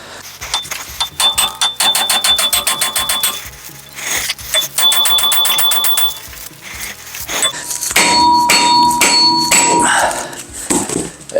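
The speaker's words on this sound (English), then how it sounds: "I'm gonna use the hammer to break this loose." Repeated metallic hammer blows on a rusty brake rotor of a Mitsubishi Outlander ring out in rapid, clanging bursts, loud and close, with brief pauses between volleys and no talking.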